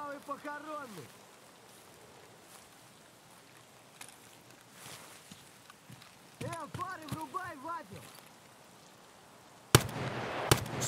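Two sharp 5.56 rifle shots fired in quick succession near the end, loud and close, in the Escape from Tarkov shooter set in the Woods map, following quieter stretches with a voice talking earlier.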